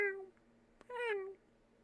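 Person imitating a cat with their voice, two close, clear meows separated by a short pause and a small click, fairly quiet against a faint background hum.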